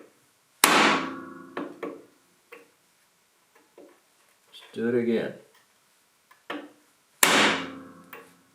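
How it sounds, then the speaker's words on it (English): Two loud, ringing metallic blows from a 2-pound hammer strike bushings on a John Deere 755 tractor seconds apart, with several lighter taps between them and a short spoken remark in the middle. "my trusty 2-pound hammer to see if she'll move"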